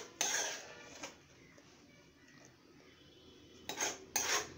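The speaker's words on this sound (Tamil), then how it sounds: "இந்த மாதிரி ஒரு கரண்டியில் எடுத்து போட்டு ஃபில்டர் பண்ணிக்கிட்டே இருங்க எல்லாத்தையும்." A metal ladle clatters and scrapes against a pot while hot red jelly is filtered, with a sharp clink at the start, another near the end and a faint quiet stretch between.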